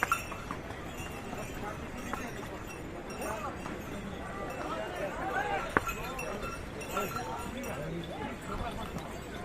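Horses on the Yamunotri mountain trek in Uttarakhand clop along a rocky path in a steady uneven rhythm beneath continuous nearby talk and outdoor bustle.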